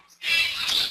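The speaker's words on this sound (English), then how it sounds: "you could probably hear the birds in the background." Birds chirp and twitter steadily in the background, a dense high-pitched chatter that fills the whole stretch after a brief quiet start.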